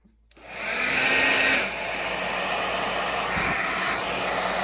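A hair dryer set to high blows steadily and loudly, warming the glue on a Bose QC45 headphone hinge; it starts abruptly, peaks in the first second, then settles into a slightly lower continuous whir with no talking.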